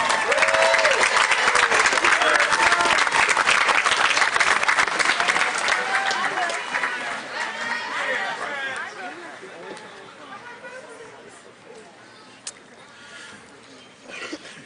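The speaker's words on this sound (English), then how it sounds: "One more round of applause for Alcott-Day." Commencement audience at the Germantown Academy Class of 2024 graduation applauding loudly and steadily, with crowd chatter and a voice over the clapping, the applause thinning and fading toward the end.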